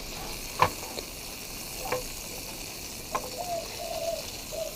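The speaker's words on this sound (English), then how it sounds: "So she's sizzling away." Spam and eggs fry in a pan, a soft steady sizzle running throughout with a few light knocks and scrapes scattered across it, heard at moderate distance with no talking.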